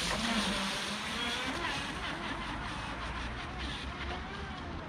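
A Proboat River Jet RC boat on a 3S battery runs on a river with a continuous buzzing motor whine under rushing water and wind, steady and fairly loud.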